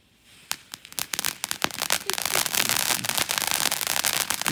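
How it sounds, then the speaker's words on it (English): A small consumer firework fountain is lit outdoors on a holiday weekend and starts with scattered sharp pops before building into a dense, continuous loud crackling and hissing spray. "I'm gonna start it off with a little fountain,"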